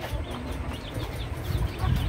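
Australorp and Fayoumi chicken chicks cheeping and chirping in a busy, continuous chatter of small high calls, close by over a low background rumble.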